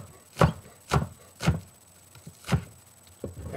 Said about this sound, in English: then we take our large knife and cut these up fairly fine, fairly finely cut